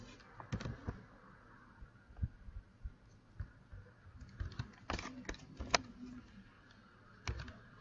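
Keys clatter on a computer keyboard in quiet, scattered bursts of soft clicks with uneven pauses, faint and close against a low room hum.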